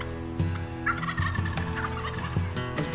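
Wild turkeys gobble in a Kansas field, several birds calling in quick overlapping rattling bursts at close to moderate distance over a steady outdoor background.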